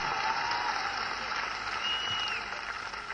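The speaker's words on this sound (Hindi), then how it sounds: "इन्हें तालियों में बदलो जोरदार आवाज के साथ" A large crowd at a political rally in Amethi applauds in a broad, steady wash, fairly far off and moderately loud.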